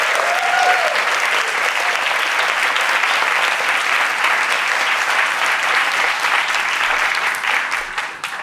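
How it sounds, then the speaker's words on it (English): Sustained applause from a crowd at a memorial service, steady and full throughout, fading slightly at the very end. "So please give her a round of applause."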